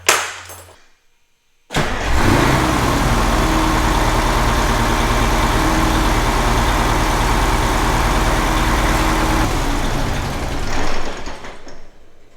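A Peterbilt 359 truck's 8V92 diesel engine starts up and settles into a loud, steady idle that runs close and unbroken for about ten seconds, then tapers off near the end.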